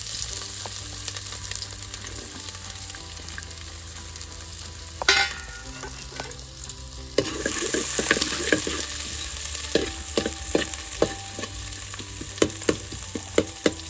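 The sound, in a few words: onions frying in a pan for mutton curry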